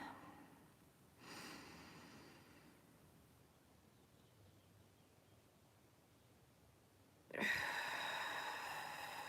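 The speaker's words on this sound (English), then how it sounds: "take a nice cleansing deep breath" A deep cleansing breath during a Reiki session, drawn in through the nose: a soft breathy inhale near the start, a long quiet pause, then a louder, close exhale near the end.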